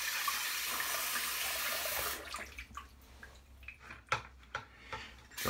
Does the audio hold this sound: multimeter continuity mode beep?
no